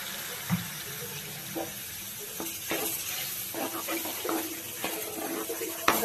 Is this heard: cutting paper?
no